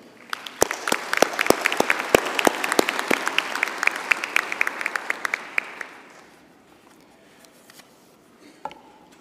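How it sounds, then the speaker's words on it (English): An audience at a university theology and religion graduation ceremony applauds the new graduates, with sharp individual claps standing out over a dense round that fades out after about six seconds, leaving quiet room tone. "Please join me in congratulating them with a round of applause."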